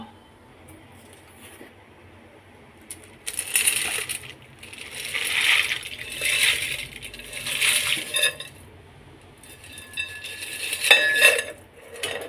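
Dry pasta drops into a pot of boiling water on the stove, a few bright clattering bursts and rattles against the metal, close and fairly loud over a low simmer.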